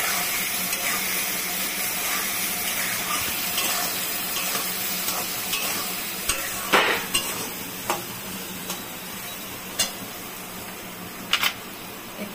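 Spice masala for dal vada sautéing in a pan, a continuous hiss and sizzle with scattered scraping and clinking of a spoon against the pan, growing more frequent toward the end, with no voices.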